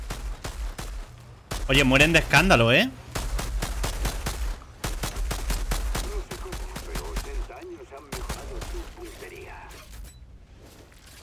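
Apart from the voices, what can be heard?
gunfire in video game Outriders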